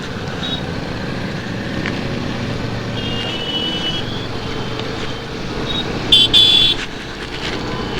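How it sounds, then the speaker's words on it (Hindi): Saturday road traffic at Char Murti Kisan Chowk in Noida Extension, with a continuous rumble of cars and trucks, brief beeps, and a short horn toot near the end, all fairly loud and close. "आज सैटरडे है, फिर भी ट्रैफिक है थोड़ी बहुत नोएडा एक्सटेंशन में"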